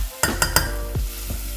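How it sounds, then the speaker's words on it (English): Chopped red onion cooking in a pan, with a steady sizzle and a few sharp stirring clatters near the start, close and moderately loud. "you add the red onion, chopped red onion, and cook till get soft"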